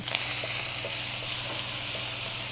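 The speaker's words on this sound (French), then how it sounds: "Là, notre volaille cuit quand même bien." Poultry sizzling in a pan with a little pepper and onion, a steady close hiss of frying that holds evenly throughout with faint soft pops.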